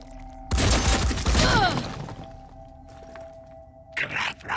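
Shots from crab-like alien enemies in the tactical video game Phoenix Point: a loud burst of cracking, crackling fire with a falling whine, then quieter ambience and a brief second burst near the end.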